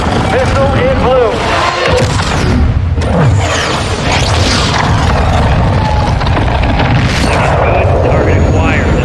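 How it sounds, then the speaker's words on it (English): A missile launch and explosion in the video game Modern Warfare II: a loud, dense rumbling roar of booms and blasts runs throughout, mixed with radio-style voices talking over it. "Missile is ready for immediate delivery. Stand by for launch."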